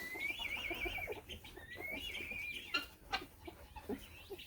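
Chickens cluck in a steady background chorus, with bird whistles and a few sharper calls rising over the farmyard ambience.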